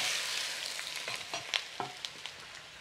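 Vegetables frying in a clay pot (cazuela de barro), a soft steady sizzle with a few light stirring scrapes and clicks, fairly quiet and with no voices.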